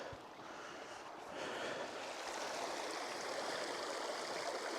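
Clear water of an alpine stream near Tre Cime di Lavaredo flowing steadily, a continuous broad rushing wash that grows slightly louder after the first second, heard close and alone without speech.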